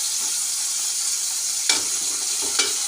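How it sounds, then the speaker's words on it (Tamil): Tomatoes and onions sauté in a pan for a dry fish curry, a continuous close sizzle with a couple of sharp spoon scrapes near the end. "தக்காளியும் பாருங்கள் நல்லா பொன்னிறமாக வதங்கிட்டு"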